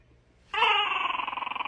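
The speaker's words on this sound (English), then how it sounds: "Where's that damn dog at?" A dog whimpers in a high, thin whine that rises suddenly and then pulses in a fast, wavering rhythm, close and fairly loud, heard alone.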